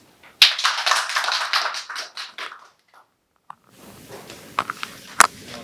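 Seminar attendees at a 20th-anniversary event give a short, lively round of applause welcoming the session moderator, a crisp burst of many hands that dies away after a couple of seconds into near silence and scattered faint taps.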